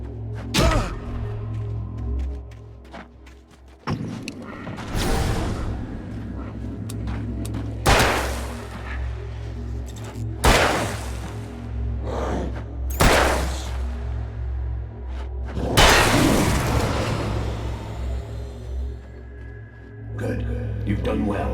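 Gunfire in the video game Alan Wake: several loud, separate blasts spaced a few seconds apart, the last one longer and rumbling, over a steady low drone, with spoken dialogue in between.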